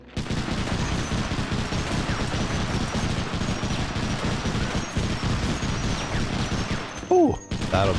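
Continuous dense gunfire in the first-person shooter Medal of Honor Underground, sustained rattling shots and crashes filling the scene, with a brief sharp burst near the end.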